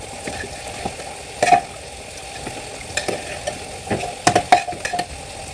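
Soaked rice is stirred into a simmering beef masala in a pot, with a soft sizzle under repeated scraping stir strokes and spoon clinks that cluster toward the end.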